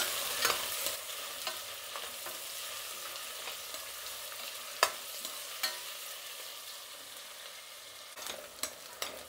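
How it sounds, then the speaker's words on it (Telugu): Chopped onions frying in a pan while being stirred, for a Karnataka-style fenugreek rice (menthe bath): a steady close sizzle with occasional sharp scrapes and clicks of the spoon against the pan. "చూడండి ఇలా కలుపుకుంటూ ఉండాలండి మధ్యలో, అలానే వదిలేయకూడదు."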